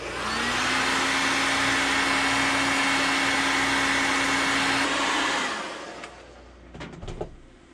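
A heat gun blows steadily and loudly for about five seconds while setting paint on a holographic jerkbait fishing lure, its whooshing roar holding a constant hum before cutting off, followed by a few faint clicks and handling noises.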